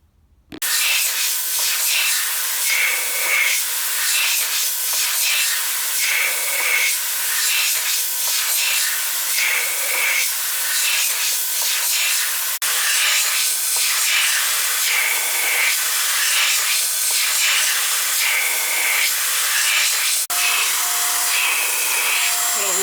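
A surface grinder wheel passing over a Kurt machine vise during a refurbish, a continuous bright hissing grind with a faintly pulsing rhythm as the table traverses back and forth, loud and steady.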